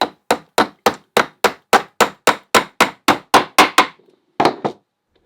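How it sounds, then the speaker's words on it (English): A hammer drives nails into a wooden frame, about fifteen sharp, evenly spaced strikes in quick succession, a brief pause, then one final blow, close and loud with no talk. "I use the frame to hold while I'm hammering"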